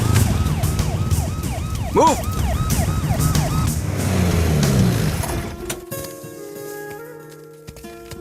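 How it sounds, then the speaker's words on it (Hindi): An ambulance siren wails loudly through a jammed street in a Hindi film scene, its rising and falling tone repeating for about five seconds before giving way to a low traffic hum, with a brief shouted voice. "इधर लो, एम्बुलेंस को यहाँ से निकालो,"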